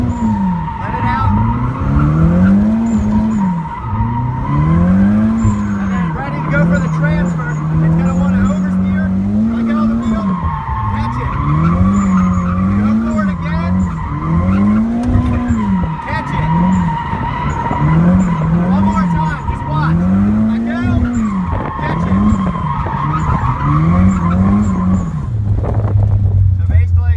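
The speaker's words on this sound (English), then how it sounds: "start a donut, go around once or twice" A drift car spinning donuts on a drifting course, its engine revving up and down in a steady repeating cycle under continuous loud tire squeal and skidding that lasts throughout.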